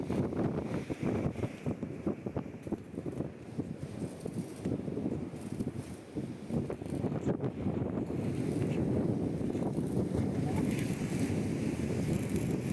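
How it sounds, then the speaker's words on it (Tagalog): Gusty wind blows outdoors at a workshop site, buffeting the microphone with irregular low rumbling rushes that rise and fall throughout and grow stronger toward the end, with a faint voice now and then. "medyo mahangin tayo ngayon"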